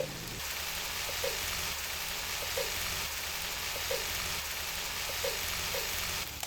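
Spices and egg masala sauté in a hot pan, a steady close sizzle like fine rain that runs the whole time, with faint stirring taps against the pan at intervals and no voices.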